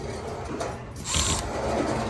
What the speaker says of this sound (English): And now we gotta take off this bottom runner.